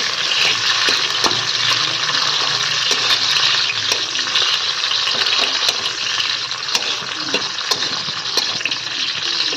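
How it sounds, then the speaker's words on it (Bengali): Cashews and raisins frying in oil in a wok, a loud, dense, continuous sizzle with occasional sharp pops, close by and without a break. "আমরা কাজু কিশমিশটা ভেজে নেব"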